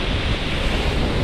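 Sea waves washing in as a loud, broad roar of surf and rushing water, with gusty wind buffeting the microphone over the whole short stretch.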